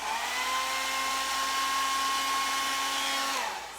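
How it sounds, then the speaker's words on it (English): A hair dryer blows at a watercolor painting with a steady, loud, high-pitched whir, holding constant before cutting off at the end. "So I just wanted you to know it's fine to use a hairdryer."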